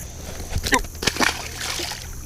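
A carp slips back into muddy river water with a couple of quick sloshing splashes followed by softer gurgling, close and brief.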